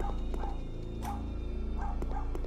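A pet dog barks in the horror game Overcursed, several short, sharp yaps spaced irregularly over a steady low humming background drone.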